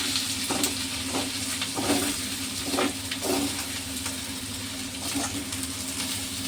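Potato pieces and green chilies fry in a hot pan with a constant loud sizzle, broken by repeated rhythmic scrapes of a spatula stirring through them.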